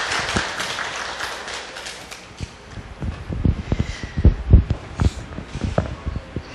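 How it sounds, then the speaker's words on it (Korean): A studio audience at a Korean radio book-talk show claps to welcome a poet guest onto the stage: scattered, close claps that build into a denser burst of applause, with no talking. "큰 박수 부탁드립니다."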